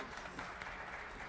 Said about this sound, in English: give Whitaker a round of applause